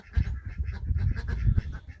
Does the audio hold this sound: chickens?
yes